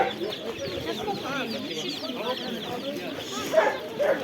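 Chickens cluck busily at a poultry market in Karakol, with repeated close clucks and chirps layered over murmuring voices and market bustle.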